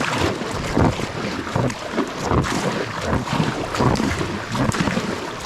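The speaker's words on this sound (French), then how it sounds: "T'as vu le courant il est puissant là." Strong river current rushing around a kayak, a loud churning wash with gusty wind buffeting the microphone throughout.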